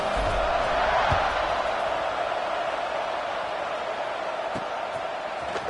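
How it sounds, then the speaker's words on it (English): A football stadium crowd keeps up a loud, steady buzzing roar with scattered shouts just before a kickoff in the second quarter of a game against Tulane. "this crowd is buzzing after that last score"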